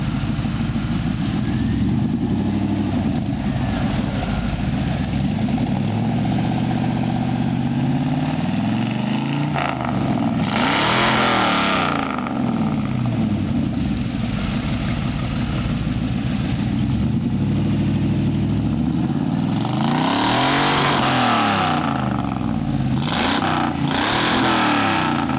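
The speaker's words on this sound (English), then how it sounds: "New glass pack exhaust." A Chevy Silverado's 350 V8 with a new glass pack exhaust settles into a deep, burbling idle, broken by three sharp throttle blips. The revs climb and fall back each time, loud and close, with no talk.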